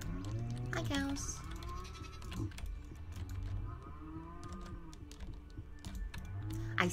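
Farm animals in Stardew Valley give repeated bleating, lowing calls over keyboard typing, while a person talks intermittently in the background.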